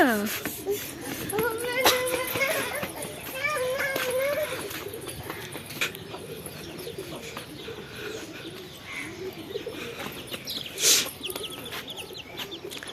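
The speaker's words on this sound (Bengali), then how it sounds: "কতগুলো কবুতর ডাকতেছে" Pigeons coo repeatedly in a village setting, with soft rolling calls spread through the scene and occasional clucks, while people talk nearby over the birds.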